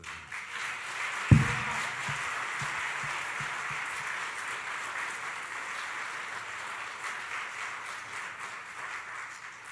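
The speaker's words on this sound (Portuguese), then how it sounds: "Vamos aplaudir a Jesus." A church congregation breaks into applause after a sharp opening clap, the dense, even clapping continuing steadily for several seconds at moderate distance with no talking.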